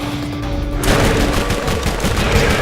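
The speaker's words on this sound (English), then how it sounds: "I hate Tediore grenades." Gunfire and Tediore grenade explosions from the video game Borderlands, a dense, continuous burst of loud shots and blasts that kicks in abruptly after a quieter moment and rattles on to the end.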